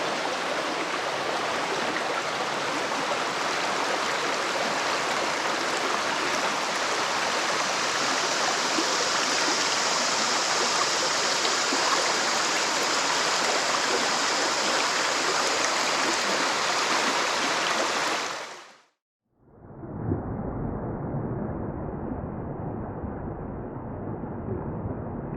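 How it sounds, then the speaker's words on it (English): Floodwater from an overflowing Florida creek rushes through swamp and floodplain woods in a dense, steady roar. It cuts off abruptly near the end and then resumes as a softer, duller flow. "listening to this water flow through the swamps, covering the surrounding floodplain for miles"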